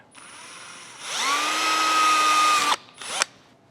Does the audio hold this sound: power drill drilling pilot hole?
yes